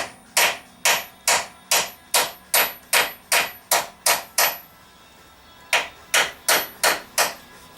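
A hammer taps a metal bearing ring during rear-bearing replacement on a Chevrolet Trailblazer, about a dozen sharp ringing strikes in a steady rhythm, a brief pause, then six more evenly spaced blows.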